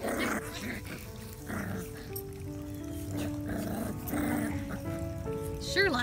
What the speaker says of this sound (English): Little Scotty growls of play.